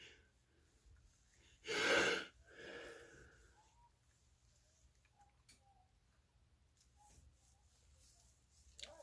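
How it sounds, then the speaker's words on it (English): A single sharp sneeze near the microphone in a quiet indoor room, followed by a softer breathy exhale and faint ticks. "Yeah, I sneezed."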